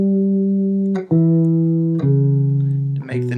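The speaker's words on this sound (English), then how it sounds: "you can use a little bit of vibrato" A double bass sustains low notes with gentle vibrato, the bowed or plucked pitch wavering steadily, moving through about four successive notes with small breaks between them, close and fairly loud.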